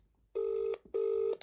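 A telephone ringback tone sounds twice as long, even electronic buzzes separated by a short pause, clear and alone over quiet background.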